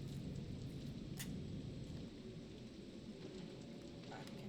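Rain and thunder in the horror video game Fatal Frame: a steady rain hiss with low rumbling underneath and a crack near the start, faint and with soft talk in the background.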